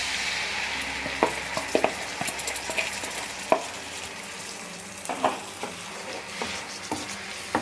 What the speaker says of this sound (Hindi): इसे हमें जब तक फ्राई करना है जब तक कि इसके ऊपर से ऑयल सेपरेट नहीं हो जाता।